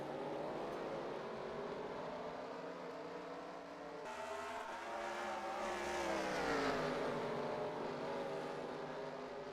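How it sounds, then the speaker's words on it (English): Race cars roar around the Watkins Glen road course after the green flag, a continuous dense engine drone with rising and falling pitch as the pack passes, fairly distant and steady. "Green flag is in the air. We are racing in the beautiful Watkins Glen, New York."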